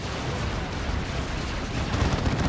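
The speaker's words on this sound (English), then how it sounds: "Is that a las cannon I hear?" A lascannon firing in the video game Dawn of War 2, a loud, dense roaring blast that fills the short clip with continuous booming battle noise.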